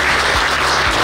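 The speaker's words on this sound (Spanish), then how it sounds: "¡Fuertes aplausos!" Loud, close applause from the audience at a judicial ceremony marking the rollout of oral civil proceedings, a brief, saturated burst of clapping.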